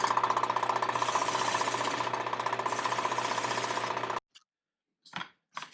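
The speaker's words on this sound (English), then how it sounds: "I'll take it over to the drum sander, run it across there, and I'll have myself a good clean cut." A drum sander smoothing a rough cut board for a wooden ladder shelf, a loud steady dense roar that holds for about four seconds, then cuts out, followed by a few faint brief knocks.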